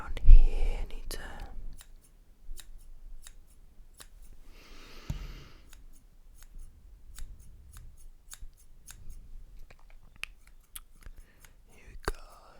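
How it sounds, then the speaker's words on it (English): Scissors snipping a hair fringe in a close, intimate ASMR setting, with sharp crisp cuts scattered across a quiet background and soft whispering in places. "I'm going to cut your fringe a little bit"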